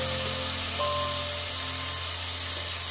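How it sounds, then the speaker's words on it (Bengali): Coconut milk poured onto vermicelli frying in a pan, a steady bright hiss and sizzle filling the whole stretch without pause, with no voices. "অনেকক্ষণ ভাজার পর এবার দিয়ে দেবো প্রথমে আমি কোকোনাট মিল্ক"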